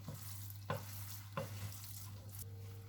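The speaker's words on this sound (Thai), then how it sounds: "ก็จะกวนให้น้ำตาลเขาเข้ากับข้าวให้ดี" Sugar being stirred into rice that is cooking in a pot, heard as a few soft scraping stir strokes over a low steady hum, with no one speaking.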